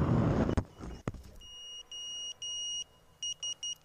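Electronic alarm tones beep after a couple of sharp clicks, first as three longer steady tones and then as three short quick beeps, clear and fairly close with no talk.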